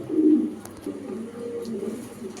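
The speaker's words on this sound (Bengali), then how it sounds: "এটা জনার্দন ব্লাড লাইনের একটা কবুতর" A male racing-bloodline pigeon cooing close by, a low throaty coo swelling then trailing into softer murmuring calls over a couple of seconds.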